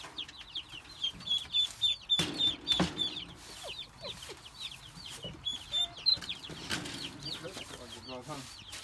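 Several chickens cluck and peep close by in a steady jumble, with a few sharp high cheeps of young chicks over the top and a soft voice murmuring now and then.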